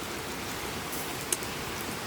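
Steady rain falls in a broad, even hiss at moderate level, with one brief sharper patter near the middle and no voices.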